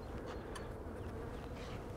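Honey bees buzz in a faint, continuous hum around an opened hive during an inspection, with no voices.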